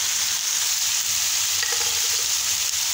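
Frying mixture being stirred in a pan while salt is mixed in, a steady close sizzle with soft scraping of the spoon running throughout, no talking.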